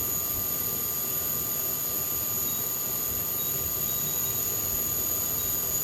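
A 2020 TRAK VMC10 CNC vertical machining center spindle spins at 6,000 RPM, giving a steady, continuous high whine over an even mechanical hum with no change in level throughout.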